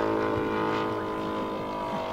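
Saito gasoline model engine on a Mitsubishi Zero Type 52 model aircraft, droning steadily and loudly with a continuous buzzing tone and no break in the engine note.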